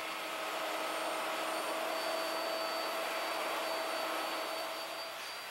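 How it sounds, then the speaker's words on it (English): A wood router cuts a tenon joint on a Leigh FMT jig, giving a steady, continuous high-pitched whir at moderate volume with no pauses. "Simply route the left side of the joint with the table to the left."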